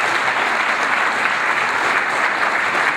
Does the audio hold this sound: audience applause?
yes